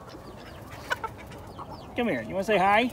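Chickens on a homestead, among ducks and guinea fowl, give a few soft short clucks and calls close by, followed by a louder drawn-out bird call, while a person talks quietly over them.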